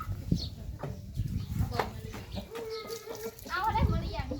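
Chickens, including a spotted hen, cluck in short, irregular bursts close by outdoors, with people talking at the same time.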